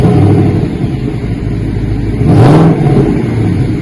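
A 2025 Ford Mustang with its stock exhaust and factory resonator revs up, a steady mid-pitched engine drone swelling into one louder, throaty rise and then settling back, close and without any talk.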